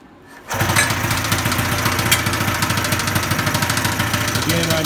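A 340cc go-kart engine catches after a pull start and settles into a loud, steady running drone with a rapid, regular firing pulse, close by and continuous.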